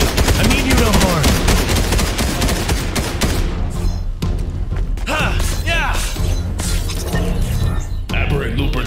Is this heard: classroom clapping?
no